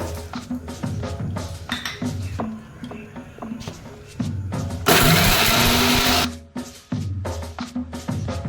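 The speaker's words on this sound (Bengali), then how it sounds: "মিক্সিতে পিষে নেব" A mixer grinder whirs loudly as it grinds garlic into paste, running in short pulses with clinks between them and one long, louder burst near the middle.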